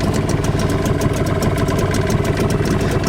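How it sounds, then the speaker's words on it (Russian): A Tohatsu 9.8 outboard motor running on 92 petrol with Manol Outboard oil idles loud and close with a steady, smooth, rapid chugging throb and no talking. "На холостых мотор работает достаточно мягко."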